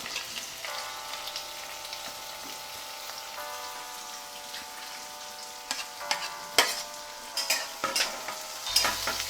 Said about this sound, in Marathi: हे आपल्याला भाजून घ्यायचं आहे चांगलं